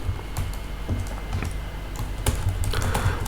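Rapid typing on a computer keyboard while entering search keywords, with irregular clusters of close, crisp key clicks over a steady low hum and no voices.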